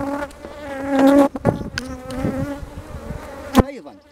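Honeybees buzz steadily around an opened hive while the colony is being split, a dense droning hum that swells and fades across the whole stretch with a few brief knocks and handling sounds.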